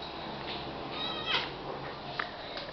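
A cat meows for food in a home near the kitchen, two or three short plaintive calls rising over a steady background hum, moderately close and without talking.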